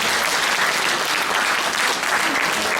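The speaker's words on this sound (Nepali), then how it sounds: "हामी ताली बजाएर स्वागत" A crowd gives sustained, dense applause to welcome guest teachers at a church anniversary gathering in Kathmandu, loud and even throughout with no pauses.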